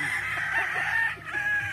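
A yellow-legged hatch gamecock crows close by, one sustained, drawn-out call that wavers and dips briefly near the end, with no talking over it.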